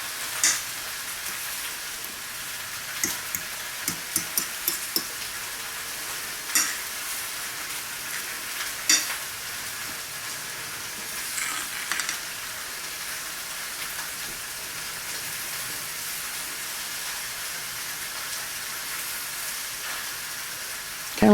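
A fork stirs squash fritter batter in a bowl, making soft wet scraping and tapping sounds in irregular bursts, close and quiet, over a constant hiss.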